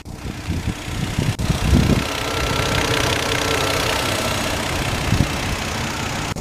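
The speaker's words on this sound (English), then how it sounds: "this one does have a 3-liter turbocharged inline 6-cylinder. Running absolutely fantastic." A 3-liter turbocharged inline-six in a 2012 Volvo XC70 T6 Platinum idles steadily under an open hood, a smooth, even engine hum heard up close with no voices.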